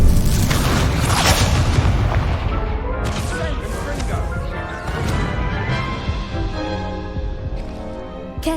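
Spell impacts in a Hogwarts Legacy duel sound as loud, dense bursts of booming crashes and whooshes, layered one after another with game effects and character voices mixed in.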